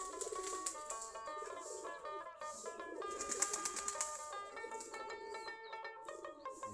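A loft of 30 to 35 pairs of Giribaz and Golla pigeons coos together, many overlapping calls forming a dense, continuous murmur at a steady, moderate level.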